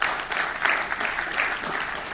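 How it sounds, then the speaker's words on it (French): Conference audience applause, a lively burst of many hands clapping at close range, steady and unbroken. "on l'applaudit, ouais"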